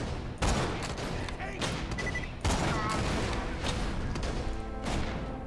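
Loud, repeated shotgun blasts from the Borderlands 2 shooter game, several booming shots in quick succession with clattering gunfire between them.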